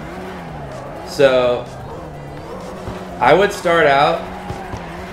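Tires squeal in two bursts as a car drifts in CarX Drift Racing Online, a short screech followed by a longer wavering one, while someone talks over a low engine hum.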